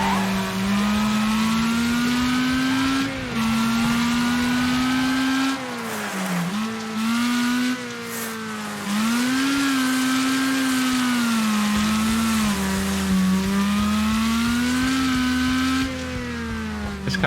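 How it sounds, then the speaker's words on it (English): Car engine revving in the Gas Station Simulator video game, a steady loud drone that rises and falls in pitch through several rev swells, with brief dips, alone without talk. "This car definitely does not sound as good as the last car"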